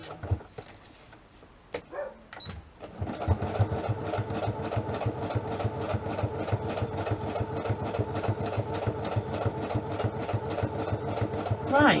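A sewing machine stitches pockets made from card stock scraps, running steadily and loudly with a fast, even mechanical rhythm after a few quiet seconds of handling noises at the start.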